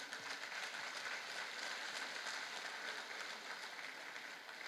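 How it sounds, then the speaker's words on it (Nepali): Sustained applause from a church congregation, a steady, even wash of many hands clapping at moderate distance, fairly quiet overall with no speech over it. "परमेश्वरलाई महिमाका ताली दिउँ न।"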